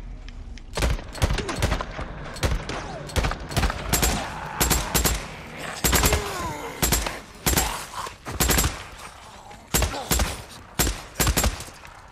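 A suppressed pistol fires again and again in Days Gone during a fight against a horde. Roughly twenty sharp, loud shots come in irregular bursts over a dense, rumbling background, with no talking.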